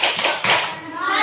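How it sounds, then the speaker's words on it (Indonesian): Schoolchildren clapping a rhythmic focus clap in a first-grade classroom, a few quick grouped claps under children's chanting voices, close and lively, with a brief accent in the middle. "Tepuk fokus."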